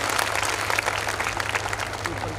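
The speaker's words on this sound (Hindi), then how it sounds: "मैं चाहूंगा एक बार दोबारा से तालियां बजाएं।" Parents and guests at a school annual function applaud in a continuous, crowded patter of clapping, steady and fairly full, with a low hum from the sound system underneath and faint voices mixed in.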